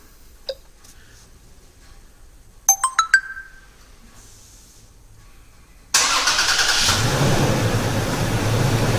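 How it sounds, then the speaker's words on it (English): A few short electronic chimes sound, then a Toyota Tacoma pickup engine, started by remote, cranks and catches, settling into a steady, fairly loud idle close by. "we're going to start the vehicle."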